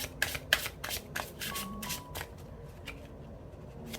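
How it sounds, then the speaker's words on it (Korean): Oracle cards being shuffled and drawn, a run of quick papery riffles and taps near the start that thin out into quiet handling. "오라클 카드 먼저 2장 뽑아보도록 할게요"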